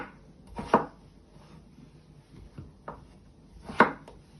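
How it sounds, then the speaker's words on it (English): A few sharp knife chops through potatoes against a cutting board, spaced out with quiet gaps between, close and fairly crisp. "you first want to chop them down the middle and then chop them in half"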